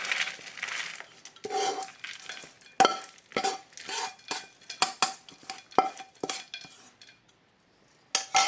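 Metal utensils clink and scrape against steel dishes while a roasted date-and-ghee mixture for khajur pak is moved onto a plate, a busy run of close, bright knocks and scrapes with a brief pause near the end.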